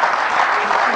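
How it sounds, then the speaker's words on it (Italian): Studio audience applause on an Italian television football program, a dense steady wash of clapping filling a brief moment, loud and continuous with no voices standing out. "io ti faccio salutare con un applauso"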